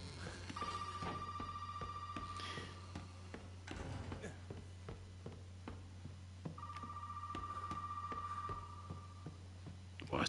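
In Resident Evil 7: Biohazard, an electronic telephone ring trills twice, separated by a pause, over a steady low hum and scattered clicks.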